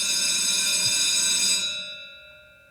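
A bell rung to open a podcast segment, one bright struck tone that rings on loudly, then fades away over a couple of seconds with no talk.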